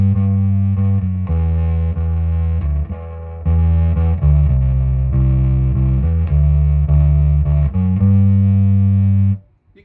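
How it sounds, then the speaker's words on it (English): Bass guitar played through a Peavey 400 bass amp with distortion, loud sustained notes that shift pitch every second or so before stopping sharply near the end, with no talk. "We'll throw in some little distortion too, why not?"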